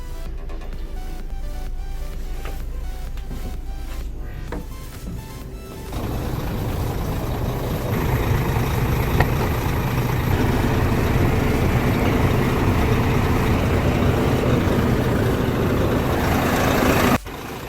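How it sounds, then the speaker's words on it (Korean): A large bus diesel engine idles loudly, then revs up into a heavier, steady rumble with a rising whine that holds until an abrupt drop at the end. "지금 RPM을 보시면 시동이 켜져 있다는 것을 알 수 있죠?"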